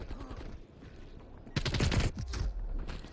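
Pistol gunfire in a Call of Duty match on the Nuketown 84 Holiday map, with a burst of loud, close shots packed together in the second half after a quieter stretch of background game noise.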